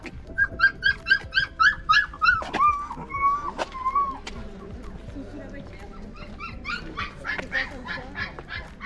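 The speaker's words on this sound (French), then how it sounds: "C'est des bébés chiots." Baby puppies whimper and yip in quick high bursts close by, a run of squeaky cries at the start and again near the end, with a few short sharp sounds between and soft talk underneath.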